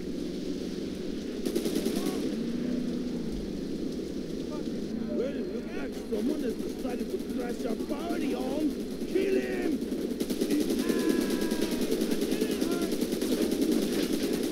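Rapid automatic gunfire in the Roadkill video game, sustained bursts of machine-gun fire through most of the stretch, with a voice talking over it.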